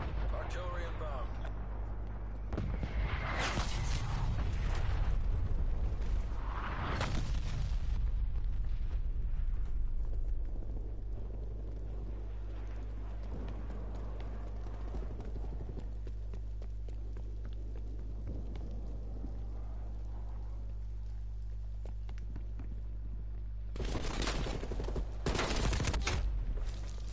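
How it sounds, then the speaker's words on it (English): Heavy artillery explosions in Call of Duty Black Ops Cold War: a few deep booming blasts early on, a long rumbling lull under low game hum, then another cluster of loud impacts near the end. "Artillery inbound."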